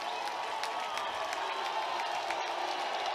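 A baseball stadium crowd roars and applauds after a two-run home run at a college regional game, a steady, broad wash of cheering and clapping that stays at a constant level throughout.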